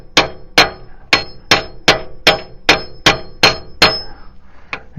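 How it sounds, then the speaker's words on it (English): Steady metallic hammer blows, about ten sharp ringing strikes at an even pace, close by, driving a Subaru shifter joint into place from underneath. "I got a hammer underneath, and I'm just gonna keep driving this in."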